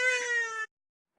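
A domestic cat lets out one clear, close meow lasting well under a second, followed by silence.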